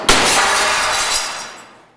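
Window glass shatters as a 2x4 plank, eight feet long, fired from an air cannon strikes it: one sudden loud crash followed by a spray of tinkling fragments that fades out over about two seconds.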